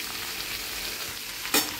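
Pumpkin and mixed vegetables stir-fry in a pan with little oil, salt and sugar, giving a close, even sizzle with a brief scrape of stirring near the end.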